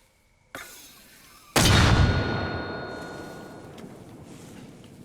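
Mortar rounds fire in Arma Reforger: a small click, then a loud booming launch whose heavy rumble trails off slowly over several seconds, heard up close with no talk.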